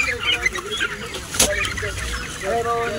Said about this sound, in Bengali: প্রচুর মুরগি আছে ফার্মটায়।